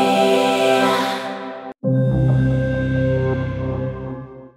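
Vocal loops from the Exhale software instrument by Output: layered synthetic vocal tones swell and sustain, cut off briefly near the middle, then return as a fuller vocal texture that slowly fades out.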